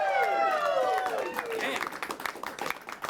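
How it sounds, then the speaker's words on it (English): A late night talk show studio audience breaks into loud applause and cheering, dense clapping that gradually thins out and fades over a few seconds. "Everybody give yourselves a round of applause."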